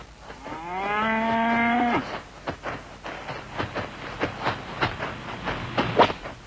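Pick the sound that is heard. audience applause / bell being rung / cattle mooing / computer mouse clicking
cattle mooing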